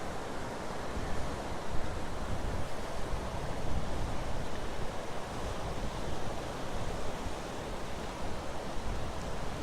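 Wind gusts steadily at the seaside with surf rolling in beneath, a broad continuous roar with heavy microphone buffeting throughout and no talking.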